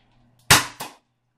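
Two sharp pops from a Bird of Prey miniature pistol firing a dot, a loud crack followed about a quarter second later by a second, slightly softer report, in an otherwise quiet room.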